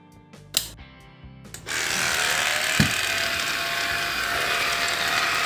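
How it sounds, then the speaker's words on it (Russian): A Redmond RV-UR361 cordless vacuum whose brush crackles without spinning: a few sharp clicks, then the motor comes on as a loud, steady whirring hiss with a brief crackle partway through, close-up. "Треск идет, а вращения не происходит."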